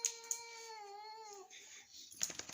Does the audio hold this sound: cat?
yes